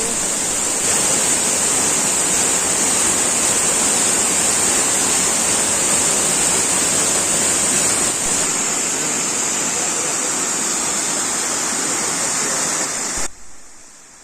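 Waterfalls on the Molinar river pour in a dense, steady roar of rushing water, loud and continuous, before cutting off abruptly near the end.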